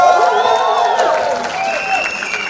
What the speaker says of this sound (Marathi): एकदा या सगळ्यांसाठी जोरदार टाळ्या